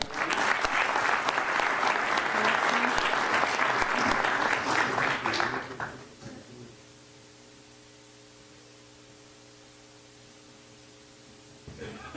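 Audience at a heraldry society's 2018 year-end closing ceremony applauds the commander with loud, sustained clapping for about six seconds, then stops abruptly, leaving a quiet room hum.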